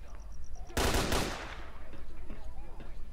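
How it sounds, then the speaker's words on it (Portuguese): Enemy gunfire in the video game S.T.A.L.K.E.R.: Clear Sky: a sudden loud, dense burst of automatic shots that lasts about half a second, then gives way to fainter scattered reports and a rumbling game ambience. "E o cara tá que atira em mim."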